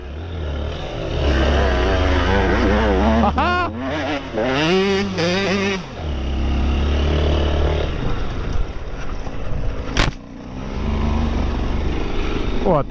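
A Honda XR 190 L motorcycle climbing a hill drones steadily at close range, its engine note rising in pitch as it accelerates. A voice breaks in briefly over the engine.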